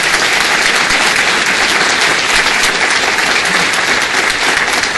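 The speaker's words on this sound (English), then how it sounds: "Please give them a great big round of applause." A city council meeting audience gives a loud, sustained round of applause for several honored people, steady and thick clapping filling the chamber for about five seconds with no speech over it.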